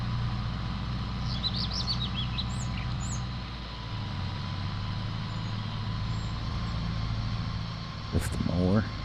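A short run of bright, rising bird calls sounds early on, with another chirpy burst near the end, all over a tractor's rumbling engine while mowing a field in Farming Simulator 22 on the Northern Farms map.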